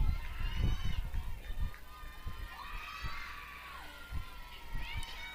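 Spectators at a Grinnell varsity softball game against Pella Christian make crowd noise, with children shouting and cheering and scattered thumps, while a commentator's voice runs over the din.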